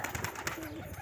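Pigeons cooing while perched on a wall, a soft murmuring coo close by amid a busy flock, with no voices.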